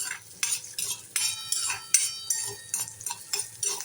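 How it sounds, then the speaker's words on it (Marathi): A utensil stirs and scrapes chopped onion sautéing in a pan for Maggi noodles, with sharp, close strokes repeating roughly every half second over a faint sizzle. "कांदा चांगला परतून घेणारे लाल होईपर्यंत"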